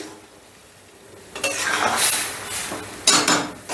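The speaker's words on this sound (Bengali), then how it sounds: "ডালটা ঢেলে দিলাম এবার ডালটা একটু নাড়াচাড়া করে নেবো" Red lentil dal with pumpkin stems being stirred in a pot: after a quiet start, loud scraping and clinking of a utensil against the metal pot comes in two bursts, with no talking.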